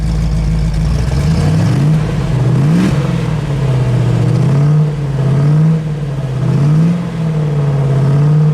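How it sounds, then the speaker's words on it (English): A 1970 Ford Mustang Boss 429 V8 idles loudly nearby, then revs up and falls back in several repeated swells with a deep, rough note, alone without talk. "give it one rev"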